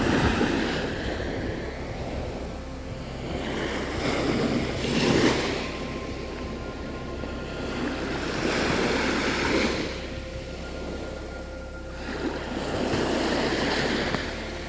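Surf washing onto a secluded swimming beach on Hormuz Island, Iran, rising and falling in slow repeated swells with steady wind noise over the microphone, fairly close and alone without voices.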